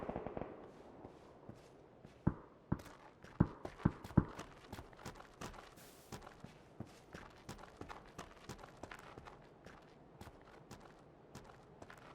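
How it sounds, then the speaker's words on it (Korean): Rapid PUBG footsteps patter continuously, mixed with sharper crackling impacts early on and settling into a quick, even run of steps, close and moderately loud without any voices. "근데 발소리가 진짜 잘 들려."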